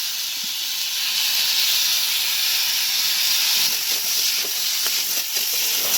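Ginger and chili paste fries with potatoes in a pan, giving off a steady, close hissing sizzle, with a few faint scrapes of stirring toward the end.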